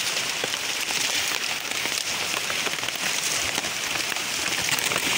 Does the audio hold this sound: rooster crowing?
no